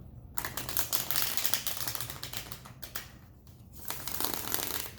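A deck of tarot cards is shuffled up close in quick riffling bursts, with a brief pause before another round of crisp flicking.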